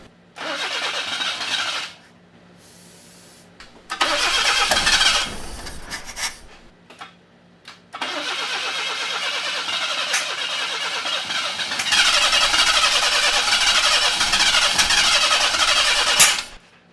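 A 1979 Chevy LUV pickup cranks and tries to start after gas is poured in, with repeated loud bursts of whirring, straining engine turnover separated by short pauses, the last attempt running longer and rougher.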